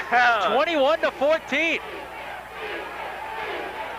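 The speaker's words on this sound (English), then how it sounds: "The crowd, you might hear them. They're yelling defense, defense, defense." A high school playoff football crowd yells in rhythmic bursts, a few loud pitched shouts in a row followed by a softer sustained crowd roar. A voice speaks briefly.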